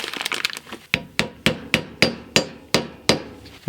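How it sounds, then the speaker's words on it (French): A mallet drives a socket to tap valve stem seals into a cylinder head. Quick light taps lead into about eight sharp, evenly spaced strikes, each ringing briefly and metallically, close and loud with no talk. "Il suffit de prendre une douille, maillet, et de bien les enfoncer à fond."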